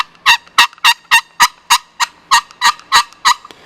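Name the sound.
Lil' Sly Hybrid turkey call being played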